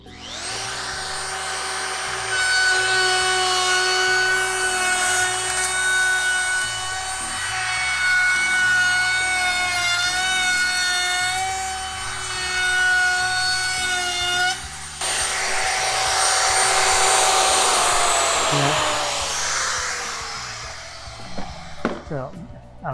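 A router cuts a wooden window stop on site, a steady high-pitched whine with shifting tones that runs loud and continuous, then changes to a rougher cutting roar partway through, with scraping bursts near the end.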